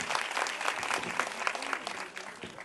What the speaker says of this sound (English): So a big round of applause for Vidya ji.